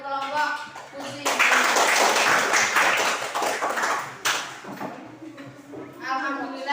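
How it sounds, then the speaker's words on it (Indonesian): Applause from a classroom of students for a presenting group: a dense burst of clapping swells and fades over several seconds, with voices talking at the start and end. "Tepuk tangan untuk kelompok kucing"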